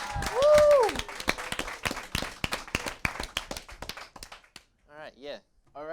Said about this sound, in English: Let's get a round of applause for democracy.